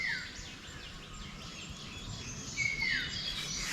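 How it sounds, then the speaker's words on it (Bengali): Birds call faintly from the forest of Anantagiri Hills, a few thin chirps rising over a steady background hiss of the woods, distant rather than close. "পাখির আওয়াজ"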